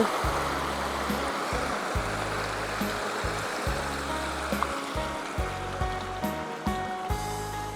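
A stream in rural Laos flows steadily with a full rush of water close by, with irregular low thumps rising through the constant wash.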